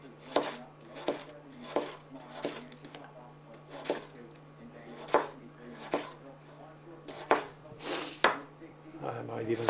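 A knife cuts through a large potato on a board, with repeated sharp chopping thuds spaced about a second apart, close and crisp, while a person talks quietly between strokes.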